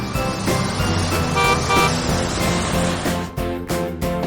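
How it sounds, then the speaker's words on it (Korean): A double-decker bus moves with loud, continuous engine and traffic noise, its horn sounding in several short toots over the rumble. "double-decker bus,"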